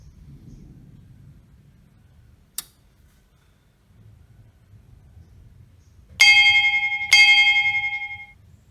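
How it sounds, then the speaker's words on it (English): An automatic school bell rings in two loud electronic bursts after a near-silent stretch with a single click, each tone decaying slowly. "Easy manual bell ringing for any schedule."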